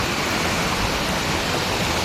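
River water rushes steadily at a Philippine stream crossing during eel hunting, a dense, continuous broadband roar close by with no pauses and no voices.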